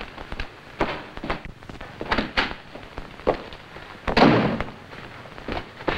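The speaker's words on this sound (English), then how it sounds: "Those shots I heard, sir, are firecrackers." Firecrackers go off in a scattered, irregular string of sharp cracks and pops, some louder bursts among fainter ones, heard at moderate distance with no voices.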